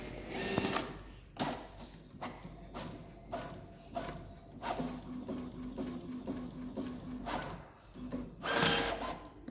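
A Brother DCP-J140W inkjet printer runs a colour test print, with its mechanism whirring and clicking and repeated sharp clacks of the print head and paper feed, close and fairly quiet.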